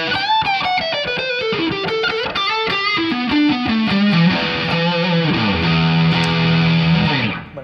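A heavily distorted electric guitar played through a NUX Amp Academy amp simulator plays a descending riff of chords and single notes, then holds a sustained, gritty chord. Loud and close.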